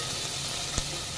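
Crushed garlic, green chili and onion frying in a pan, a soft steady sizzle with one brief clink partway through, no talking.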